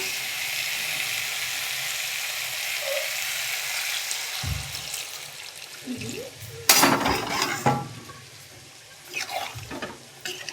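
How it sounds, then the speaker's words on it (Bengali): Water is poured onto sizzling chicken and potatoes, and the steady hiss of frying breaks into loud bursts of spitting and bubbling before settling, with a few clinks. "এবার আমি একটু জল দিয়ে দেবো যাতে আলুটা আর মাংসটা সিদ্ধ হয়।"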